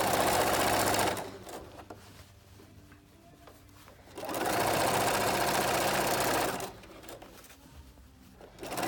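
A sewing machine stitches down a seam allowance on a garment casing, running in two loud steady bursts of whirring stitching with a quieter pause between them, clear and close.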